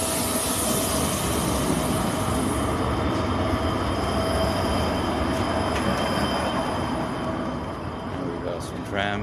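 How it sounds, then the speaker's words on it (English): Tram rolling along a city street in Bratislava, Slovakia, its steady loud rumble and rattling wheels filling the whole stretch, with a thin metallic squeal near the end amid general street noise. "Trams, or streetcars as some call it"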